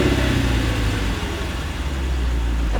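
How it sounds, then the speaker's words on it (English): A 2016 Lexus GS F engine rumbles at a steady idle close by, a deep, loud, even drone that holds throughout with no talking. "hit the engine start button, and it roars to life"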